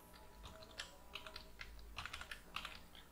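Soft keystrokes tap on a computer keyboard as C code is entered, an irregular patter of quiet clicks heard alone and fairly faint.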